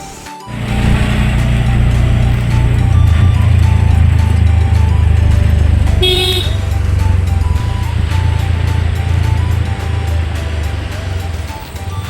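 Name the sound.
state transport (Lalpari) bus driving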